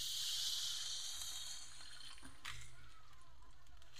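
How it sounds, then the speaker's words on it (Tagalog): Water is poured into a cooking pot holding papaya and snails, a steady bright splashing pour that starts loud and then settles into a softer trickle, with no talking. "Lalagyan natin ng tubig."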